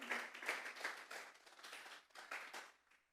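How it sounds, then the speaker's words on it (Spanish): A church congregation claps together as an offering to God, a fairly faint run of rhythmic, rapid handclaps that swells and fades over a few seconds. "Vamos a darle una ofrenda de palmas a Dios en esta tarde"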